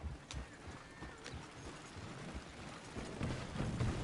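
Horses in the video game Red Dead Redemption 2, faint hoof clip-clops and movement in a quiet outdoor scene, with soft rumbling that grows a little louder toward the end.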